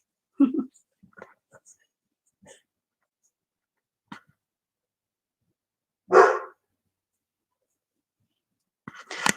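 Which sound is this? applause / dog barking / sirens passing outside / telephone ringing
dog barking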